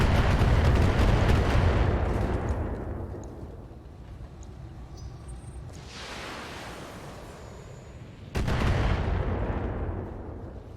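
Missile explosions in the mech combat game BattleTech, a loud rumbling blast that slowly fades, followed by a second sharp, heavy impact that rolls on again, with no talk over it.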